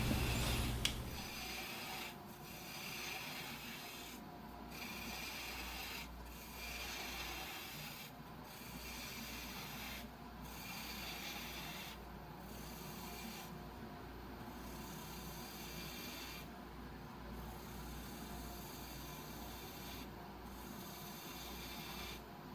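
Wood lathe turning down the foot of a vase as a tool rubs and scrapes the spinning wood, a steady rasping drone with regular rhythmic dips over a long continuous stretch.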